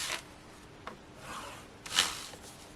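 Cardstock being scored on a scoring board for a stepper card, heard as a few quiet scraping strokes, short rubbing passes spaced apart with the loudest near the end, close up and alone.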